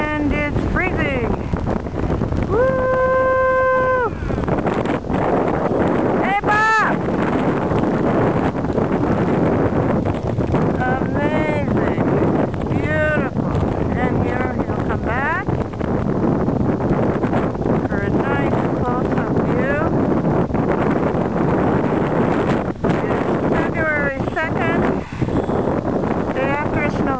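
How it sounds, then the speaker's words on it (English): Strong, freezing wind blows across a ski slope, roaring steadily and buffeting the microphone for the whole stretch, loud and close, with a person talking intermittently over it. "It is much windier here, and it's freezing."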